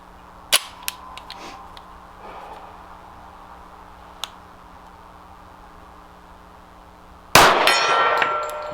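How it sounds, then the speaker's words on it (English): A steel gong target struck by .45 ACP rounds from a Dan Wesson Commander Classic pistol gives several sharp metallic clangs and pops at a distance, ending in a loud ringing clang with sustained shimmer. "Got the gong again."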